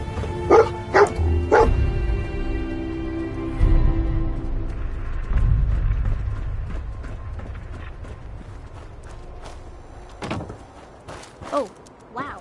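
Dogmeat, the dog in Fallout 4, barking in a few sharp bursts at the start, then game noises and scattered mechanical clunks, with further yips near the end.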